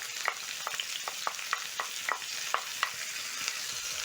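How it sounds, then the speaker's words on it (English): Onions sautéing in oil in a pan, a soft steady sizzle broken by a regular series of light spatula taps and scrapes against the pan, with no talking. "I'm going to add in a little bit more oil to my pan. Add in onions,"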